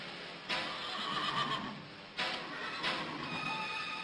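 A horse whinnies in a street confrontation, two loud neighing bursts rising sharply and trailing off, heard close and alone with no talk over them.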